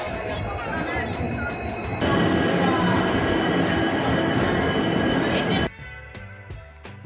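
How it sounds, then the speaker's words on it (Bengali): A train rolls into a railway station with a loud, broad rumble of wheels and carriages that swells midway and then drops away abruptly, with some people talking over it. "এই যে দেখতেই পাচ্ছ ট্রেন চলে এসেছে"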